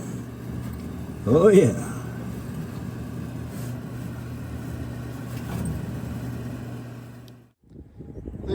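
An old Briggs engine on a MacKissic Mighty Mac running at a steady idle, with a droning hum that swells briefly and then cuts out near the end, while a person speaks briefly.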